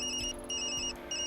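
A mobile phone ringtone chirps in repeated high electronic bursts, three short pulses separated by brief gaps, fairly quiet and alone.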